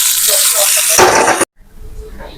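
Cashews and raisins fried in ghee go into a pot of semiya payasam with a loud, close sizzling hiss lasting about a second and a half. It cuts off abruptly, then faint low stirring follows.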